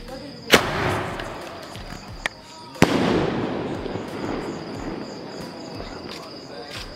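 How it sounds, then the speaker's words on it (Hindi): A Diwali sky shot firework goes off outdoors with several sharp bangs, the last launch followed by a long, loud fizzing crackle, while people talk nearby. "तो ये स्काई शॉट जला के देखते हैं इसका कैसा इफेक्ट आता है।"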